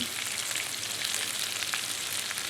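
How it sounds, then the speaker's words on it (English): Capsicum, both green and red pieces, sizzling steadily in a hot pan, a dense, even frying hiss that stays close and constant with no voices over it. "So now I'm going to toss in some of the capsicum, get that cooking"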